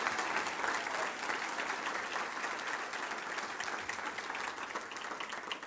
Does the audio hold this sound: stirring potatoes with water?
no